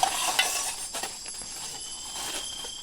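Sea fish frying in a pan on a camping stove outdoors, a steady close sizzle with occasional stirring and utensil scrapes, no talking.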